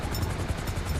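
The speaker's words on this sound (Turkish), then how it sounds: "Helikopter fazla yaklaşma." Helicopter flying close by in a video game, a steady, loud rotor chop pulsing rapidly and evenly throughout.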